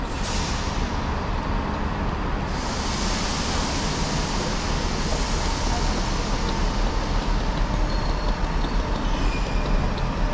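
A steady, continuous rumble of a train in motion, broadband and fairly loud throughout, with no voices over it.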